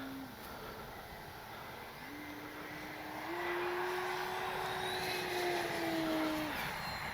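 A Kavan Pulse 2200 V2 RC model airplane flies at a distance on its maiden outing, its electric motor whine holding steady and then rising in pitch and loudness midway before dropping off near the end.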